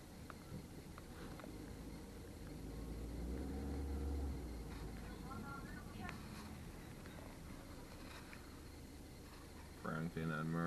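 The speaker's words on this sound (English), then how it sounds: "Traffic on Myrtle Avenue" Street traffic on Myrtle Avenue in downtown Brooklyn, a steady rumble of idling and moving engines with occasional louder vehicle surges and a brief horn-like burst near the end, heard from inside a vehicle.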